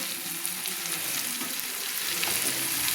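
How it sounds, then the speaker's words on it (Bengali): Washed eggplant pieces frying in hot oil for pui chyachra, a loud dense crackling sizzle that holds steady throughout, with faint stirring underneath. "ধোয়া বেগুনগুলো দিয়ে দিচ্ছি।"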